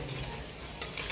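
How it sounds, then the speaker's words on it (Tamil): Tapioca pakoda fritters frying in hot oil, a soft, continuous bubbling sizzle heard close and alone. "இப்படி உதிரியாக போட்டு சுட்டு எடுத்துக்கலாம்."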